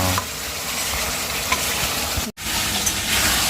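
Meat frying in hot oil in a home kitchen, a steady close sizzle and hiss with small pops, broken by one brief dropout midway, no voices.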